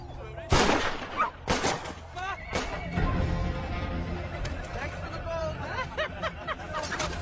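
Several sharp gunshots crack out in quick bursts, loud and close, mixed with shouting and commotion, as German troops come under fire in a war film.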